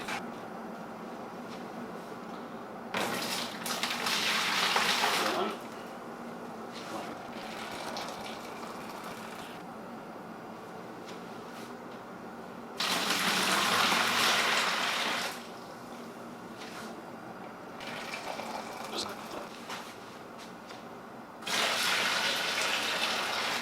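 Freshly boiled water is poured into a fermenter for a home brew experimental lager kit, coming in three loud gushing bursts separated by quieter pauses with a low background hum.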